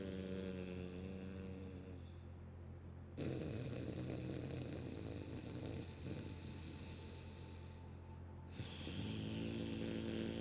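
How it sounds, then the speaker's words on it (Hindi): Snoring-like breathing during a yoga breathing exercise, long rasping inhales and exhales alternating slowly and steadily, close and continuous throughout. "लेते समय भी खराटे की आवाज़, छोड़ते समय भी खराटे की आवाज़।"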